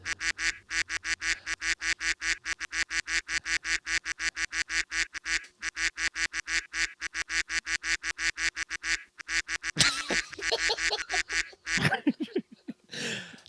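Cartoonish duck quacks sound off in a rapid, steady string as a 'duck of the game' effect for a Blitzball game, loud and close for about ten seconds before breaking into a noisier, jumbled burst.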